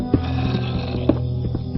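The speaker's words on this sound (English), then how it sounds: "Aha, that's the sound of a zombie." In Minecraft, a zombie lets out low, growling groans in short repeated pulses over a rumbling game background.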